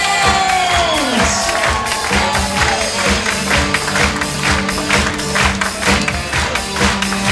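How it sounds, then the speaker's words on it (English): Aboard the cruise ship Regent Seven Seas Voyager, a crowd claps and cheers loudly for the ship's butlers, with steady sharp clapping, whoops and shouts throughout, alongside a brief falling tone near the start. "Keep your applause going for our butlers."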